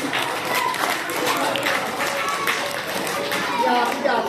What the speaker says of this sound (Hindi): शाबाश शाबाश, तालियां बजाओ मुबीन के लिए